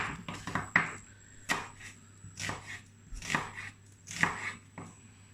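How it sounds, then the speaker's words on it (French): Knife slicing onions on a cutting board for a Neapolitan sauce: a run of close, crisp cuts in irregular bursts, some quick doubled strokes, with no talk. "On va émincer les oignons"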